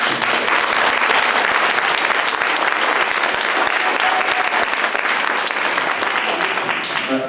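An audience at a community wind band concert applauds the percussionists with steady, full clapping that lasts throughout and thins slightly at the end.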